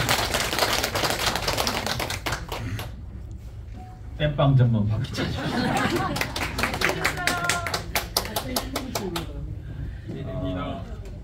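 Applause from a seminar audience at a coin trading lecture: crisp rhythmic clapping from a modest group, close by, mixed with someone speaking over it.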